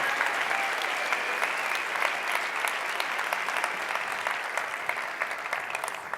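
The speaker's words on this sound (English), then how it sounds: "a huge round of applause" Sustained applause from a large convention crowd, dense steady clapping that carries on without a break at an even level.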